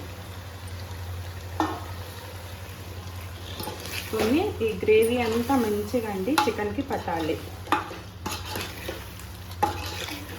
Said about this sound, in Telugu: చికెన్ అంతా బాండీలో వేసుకొని మంచిగా కలుపుకుందామండి